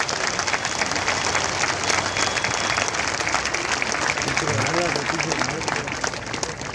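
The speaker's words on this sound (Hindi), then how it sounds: "सब अपनी कुर्सियों से खड़े होकर तालियां बजाकर उनका अभिनंदन करें" Standing audience at a public ceremony unveiling a statue of Sardar Vallabhbhai Patel, applauding to welcome the governor with dense, sustained clapping from a large crowd, a voice briefly audible beneath it.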